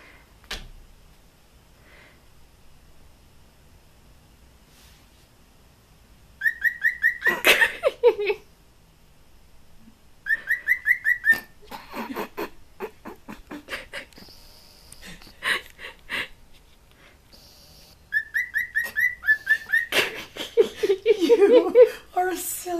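Pet cockatiel whistling and chirping in bright, bursting phrases that repeat several times at close range, with quiet gaps between bouts.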